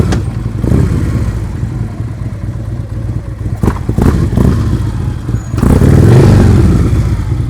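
A motorcycle engine rumbles nearby at low speed on a practice course, running loud and steady with small clattery bumps, then swelling into a stronger rev near the end.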